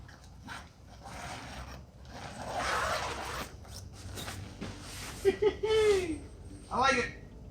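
Zippers on a two-person instant pop-up tent are pulled in several quick strokes, close and scratchy, with a voice talking and a chuckle under the rubbing of fabric.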